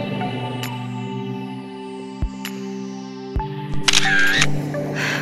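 A camera shutter fires for a selfie, giving a couple of sharp clicks over a steady background of tonal music, ending in a brief bright electronic chirp.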